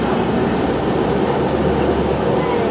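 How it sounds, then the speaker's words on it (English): A train rolling through Grand Canyon Village, Arizona, heard as a loud, steady rumble and rattle of moving railcars, close by and unbroken. "That was pretty neat how they split the train that we were on."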